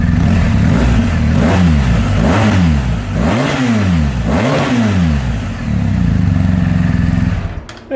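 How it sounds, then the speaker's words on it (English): A 2019 BMW R 1250 GS Adventure motorcycle fitted with an Akrapovic full titanium exhaust, revved close up in a series of rising and falling throttle blips over a steady idle, with a few quick pulls near the end. "it just had an Akrapovic full titanium exhaust installed by Zack, the master mechanic, 2 days ago"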